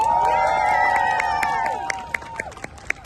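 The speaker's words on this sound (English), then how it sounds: "let's give him a round of applause today" An audience at a public address by Akhmed Zakayev cheers and applauds, with sustained whoops and shouts at first that fade into scattered claps.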